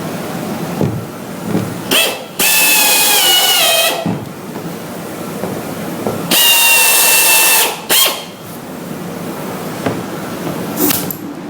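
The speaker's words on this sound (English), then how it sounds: "he will pre-drill all 3 of them" A power drill pre-drills pilot holes for spin welds in two loud, steady whining bursts of a few seconds each, separated by quieter handling and shop noise.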